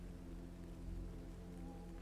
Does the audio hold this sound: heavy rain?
yes